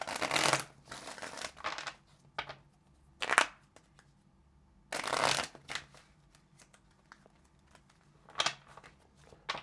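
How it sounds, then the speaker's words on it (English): Tarot cards are shuffled in several quick riffling bursts, close up and crisp, separated by short quiet pauses. "let's get a couple of good shuffles."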